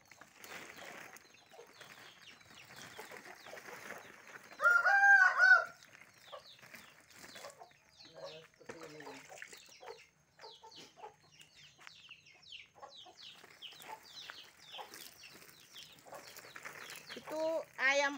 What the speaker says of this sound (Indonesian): ayam juga ngikut ya guys